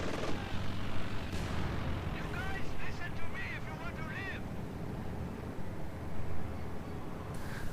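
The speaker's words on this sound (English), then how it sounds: "And they're doing like mortar barrages." Mortar barrages and battle noise in the video game Company of Heroes 2, heard as a dense, continuous rumble of distant explosions and artillery blasts, with a person talking over it.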